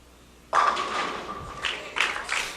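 Bowling pins struck by a ball on a tournament lane during a mixed doubles championship, a sudden loud crash with a bright ringing tone that rattles on, followed by further clattering bursts of pins.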